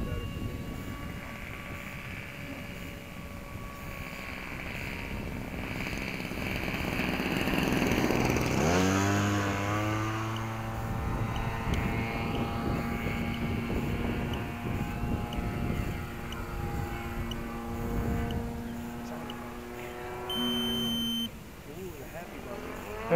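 A diesel-engine radio-controlled model airplane in flight, its buzzing engine whine rising as it passes close and sweeping down in pitch, then droning on at a distance while voices talk nearby.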